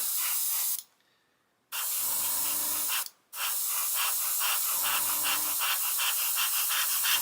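Steady airbrush hiss sprays green paint in bursts onto a 1/35 Ju 87 Stuka model, cutting off briefly twice, with a faint low compressor hum in the pauses; close and fairly loud, no talking.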